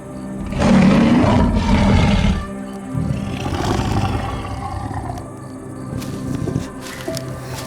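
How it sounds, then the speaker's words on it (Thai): A tiger roars loudly and close, a deep rumbling snarl that surges, dips and rises again for several seconds, with no voices alongside it. "เสียงดังคำรามของเสือเริ่มดังเข้ามาใกล้กระท่อมเรื่อยๆ"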